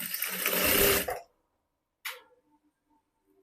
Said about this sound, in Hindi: तो 1/2 इंच की दूरी से मैं सिलाई लगा रही हूँ।